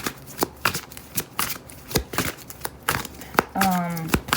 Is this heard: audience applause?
no